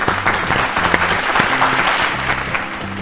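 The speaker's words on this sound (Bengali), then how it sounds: "জোরে হাততালি একটা" Studio audience on a Bengali family game show applauding loudly, a dense, steady wash of clapping lasting about three seconds with music tones underneath and no speech.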